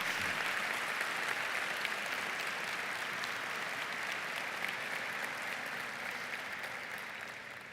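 A church congregation breaks into steady, broad applause that fills the hall evenly and slowly fades toward the end, with no voices over it.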